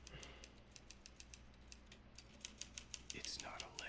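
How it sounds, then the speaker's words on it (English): Keys are typed on a keyboard inside the Alan Wake video game, a quiet, rapid run of regular clicks over a low background hum. "Oh, they're typing."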